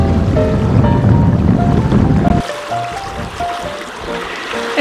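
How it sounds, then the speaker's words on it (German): A sailboat crosses the lake Roxen on the Göta Canal route, first with loud wind and water rush that drops away halfway to quieter lapping and faint tonal sounds. "Wir segeln heute über den Roxen."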